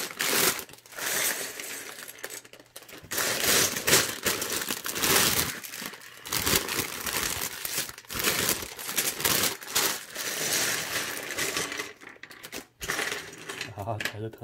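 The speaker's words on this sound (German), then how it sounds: "Wir haben zwei Tüten. Ach komm, packen wir kurz aus." Plastic bags of Lego pieces for the Creator Expert 10278 Police Station set are torn open and handled, giving steady close crinkling and rustling with small plastic parts clattering throughout.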